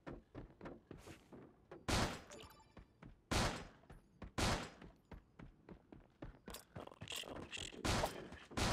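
Video game gunfire with a blue SCAR and a revolver in play: scattered sharp shots and bursts at irregular intervals, fairly close, with thuds and clatter between them.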